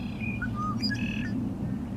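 A few bright whistled notes and a short trilling song of a male red-winged blackbird in breeding season ring out over a low, steady background rumble.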